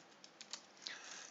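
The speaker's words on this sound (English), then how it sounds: "And if I wanted to, I could also type in" Typing on a computer keyboard while entering a command on a Raspberry Pi: several quiet, separate key clicks in an uneven rhythm, close but faint, with no talking.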